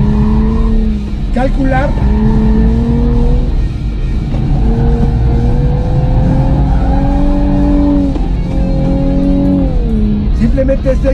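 The twin-turbo engine of a new Nissan Z pulls hard while driving, its tone climbing and dropping through gear changes, up close under someone talking.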